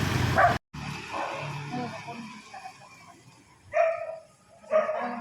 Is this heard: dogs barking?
yes